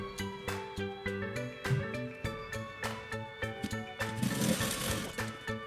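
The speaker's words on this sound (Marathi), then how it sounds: "इथे खालच्या साईडला आपल्याला शिलाई मारून घ्यायची" A sewing machine stitches blouse fabric in quick, even mechanical bursts with a humming motor, close and steady, with a short pause partway through.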